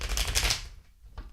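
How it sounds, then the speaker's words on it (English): A deck of tarot cards is shuffled in one dense, riffling burst of close card flutter, followed by a brief pause and then a short final flick. "I'm going to do another kind of big shuffle here."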